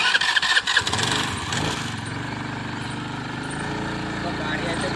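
A Honda Activa scooter engine is started with a brief cranking burst, then settles into a steady, close idle hum.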